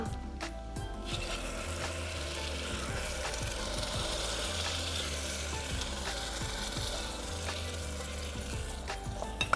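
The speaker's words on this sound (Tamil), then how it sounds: "இப்போ இதை நல்லா ஃப்ரை பண்ணலாம்" Masala frying in a pan for a vangara dosa dish, a steady close sizzle with repeated ladle scrapes and stirring knocks throughout, no voices.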